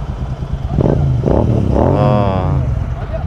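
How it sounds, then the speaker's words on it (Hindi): A Royal Enfield Continental GT motorcycle with a loud aftermarket exhaust revs up and roars nearby, its exhaust note rising and falling over steady road noise in rain, with voices faintly underneath. "वो भाई का एग्जॉस्ट की साउंड भी बहुत अच्छा है"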